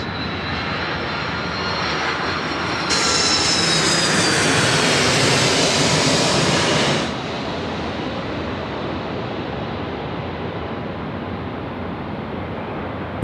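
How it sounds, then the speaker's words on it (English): Qantas jet airliner arriving from Haneda, passing low overhead on landing approach at Sydney Airport; a loud, steady broadband jet roar that swells sharply for several seconds as it passes directly above, then settles back to a lower rumble. "we've got a Qantas 60 coming in from Haneda now from Japan. It's going to be coming in straight over the top of us."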